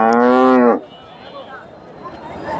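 A dairy cow at a cattle market gives one loud, close moo lasting under a second, followed by the low murmur and background bustle of the market.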